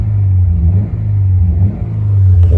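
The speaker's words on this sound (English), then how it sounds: "Give it a bit of a rev." Subaru BRZ R with a six-speed manual, its engine giving a deep, loud rumble that swells in short rev pulses, heard close with no talk.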